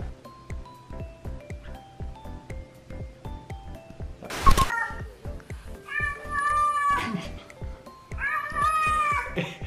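An overweight cat meows repeatedly in long, drawn-out wails that rise over a steady rhythmic tapping and rustling, fairly close and clear.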